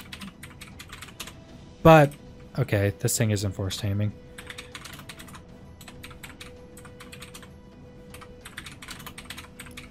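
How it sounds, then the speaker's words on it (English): Heavy clicking of a computer keyboard typed on during a game, a sparse patter of keystrokes running underneath a man's speech, which comes in one short burst. "You guys are probably hearing some heavy clicking."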